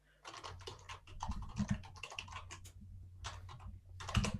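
Rapid clicking keystrokes on a computer keyboard, tapping in uneven bursts with brief pauses, close and fairly quiet, with no voices.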